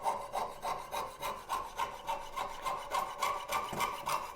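A fine jeweler's saw cuts through thin metal with steady, rhythmic back-and-forth rasping strokes, about two per second, close and moderately quiet, with no voices.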